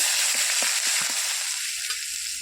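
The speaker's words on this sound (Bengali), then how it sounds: "এর মধ্যে দিয়ে দিলাম রসুন বাটা" Garlic paste frying in hot oil with dried red chilli, whole cumin and garam masala for a doi katla fish curry, a loud steady sizzle with a few quick stirring knocks early on.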